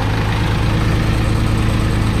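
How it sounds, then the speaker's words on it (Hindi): A Massey tractor engine idles steadily at low RPM, a loud, continuous diesel rumble with a constant low throb and no talking. "और उधर चलो मैसी ट्रैक्टर को भी स्टार्ट करते हैं"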